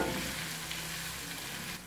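Ginger garlic paste sizzles steadily in a pan while being stirred, a continuous close frying hiss with faint scraping and no voices.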